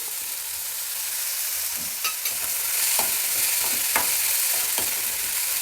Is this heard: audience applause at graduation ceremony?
no